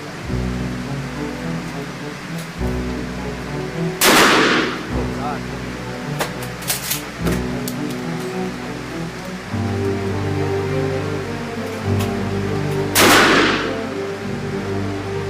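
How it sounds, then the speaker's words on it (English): Two loud shotgun blasts boom out at an outdoor shooting range, several seconds apart, each a sharp broadband crack over steady wind and background noise, with a few faint clicks between them. "this is Eddie becoming a man by shooting a shotgun"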